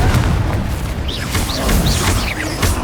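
A Confringo blasting spell detonates in Hogwarts Legacy, giving a dense, continuous rumbling boom with repeated bursts and crackles, loud and close, mixed with whooshing magical effects and no talk.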